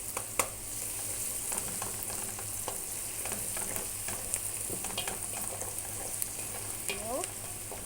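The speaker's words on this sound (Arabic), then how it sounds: "نزلت بالتومة اهي، بقى احمرها مع البصل" Garlic frying with onions in a pan gives a steady, close sizzle, punctuated by light scraping and clicking from stirring throughout; no one speaks.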